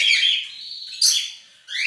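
High, bright chirps and warbling tweets from a pink Bourke's parakeet in quick bursts, close and fairly loud, with a brief pause before a final run of calls.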